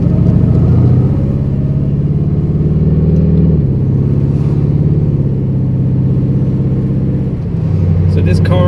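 A twin-turbo 427 cubic inch LS engine in a 1000 hp street car drones at a low, mellow rumble while driving, with slight shifts in pitch as it cruises steadily along.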